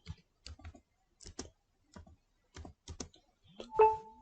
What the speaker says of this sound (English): So click on start and type add or remove.